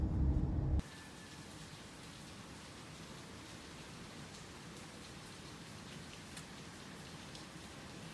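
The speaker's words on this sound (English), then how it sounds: "it's gonna be probably rain for a while" Steady rain falls on Eleuthera, a soft, even hiss of drops on surfaces that continues unbroken after a louder first second.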